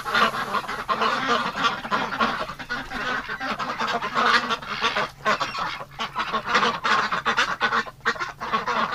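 Ducks kept in a barn over winter honk and quack loudly in a dense, continuous chorus of overlapping calls, near and busy throughout, with no talk.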